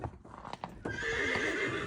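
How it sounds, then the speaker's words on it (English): A horse lets out a loud, sustained high-pitched squeal after a few brief scuffles and thumps, close by. "That's squealing from Hidda."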